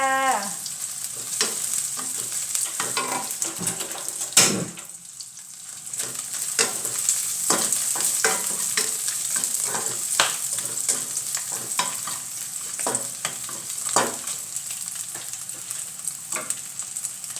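Crispy pork stir-fried over high heat in a pan gives a steady, close sizzle with repeated scraping and clattering strokes of a utensil, one sharp clang near the start; no one talks.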